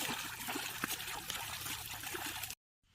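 Water pours and splashes steadily while a Honda motorbike is washed, a continuous bright trickling spray that cuts off abruptly near the end.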